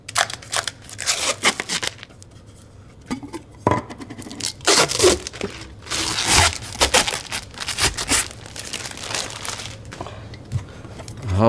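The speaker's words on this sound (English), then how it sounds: "Let's go ahead and remove this tint." Protective tint film is peeled off a new machine's plastic surface in a series of close crinkling, ripping and crackling bursts, uneven and stop-start, with brief quiet gaps between pulls.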